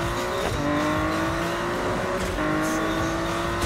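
Car engine in the video game Need for Speed 2015, a loud revving roar with rising and falling pitch and squealing tires on a gymkhana-style run, with no talk.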